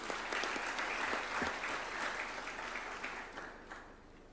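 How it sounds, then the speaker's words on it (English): Steady applause fills a State House hall during a judges' swearing-in ceremony, dense clapping from a seated audience that holds for several seconds and then tapers off. "A round of applause for him, please."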